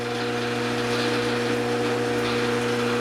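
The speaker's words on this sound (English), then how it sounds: "I'm going to turn on a rotary phase converter, which, like every rotary phase converter I've heard about," A rotary phase converter in a workshop drones loud and steady with a constant electrical hum and a whirring motor tone, unbroken and close, with no speech over it.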